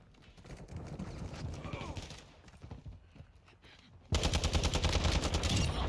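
An ISO Hemlock rifle fires in Modern Warfare 2 multiplayer, with rapid bursts of close automatic gunfire and fainter distant shots, ending in a sustained loud volley. A player talks over part of it.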